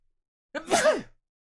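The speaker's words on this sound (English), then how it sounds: "I'm gonna sneeze." A single short sneeze, close and sudden, in otherwise silence.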